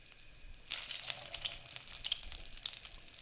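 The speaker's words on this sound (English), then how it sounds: "I'm going to put my chicken right in here, and you should hear a little sizzle." Chicken nuggets drop into hot oil and start sizzling: a quiet start, then a steady crackling fry with scattered pops, fairly soft and close, with no voices.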